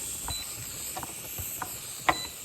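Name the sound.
steam hissing from a Presto digital pressure canner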